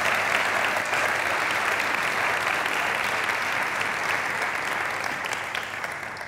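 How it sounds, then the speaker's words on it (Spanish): Loud, steady applause from an indoor audience at a bullfighting club gathering, welcoming two guests; dense clapping fills the whole stretch and tapers slightly at the end. "la mejor manera de recibirlos es con una fuerte ovación"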